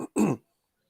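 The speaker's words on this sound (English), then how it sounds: "clearing my throat, got a frog in my throat" A man clears his throat in a short, sharp burst right at the microphone, followed by silence.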